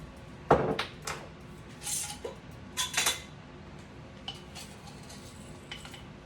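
Dried yellow dock root spooned into a pot, a tablespoon at a time: a few faint, scattered clinks and light rattles of spoon against metal, close by and otherwise quiet.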